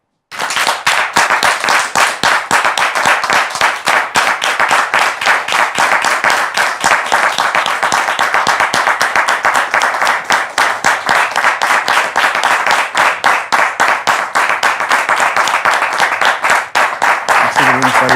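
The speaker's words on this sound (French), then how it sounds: "Sous vos applaudissements, s'il vous plaît." A studio audience on a French talk-show set claps steadily and loudly to welcome a guest, a dense wall of hands that runs unbroken for the whole stretch before tapering slightly at the end.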